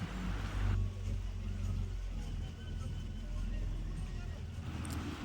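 Boat motor droning steadily as the boat nears the jetty on a trip to Sambranikodi island, a continuous low engine hum and water rush throughout with voices talking over it.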